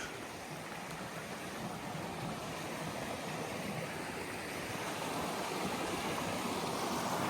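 Water in a brook called Upper Lake Brook rushes steadily beneath a new bridge beside a pasture, a continuous broadband roar with no pauses, close and fairly loud.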